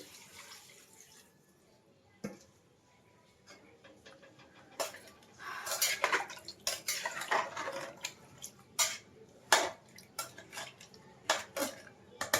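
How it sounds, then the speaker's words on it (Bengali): Hot water poured into a pot of goat meat curry, with a loose watery splash and repeated clanks of utensils against the pot, growing louder in the second half. "এই গরম জলটাই দিয়ে দিলাম এর মধ্যে"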